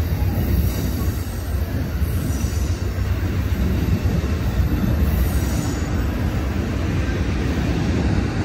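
Steady loud rumble of an out-of-service Amtrak California Zephyr passenger train departing Emeryville station, with rattling wheels and a faint high squeal above, continuous throughout and no voices.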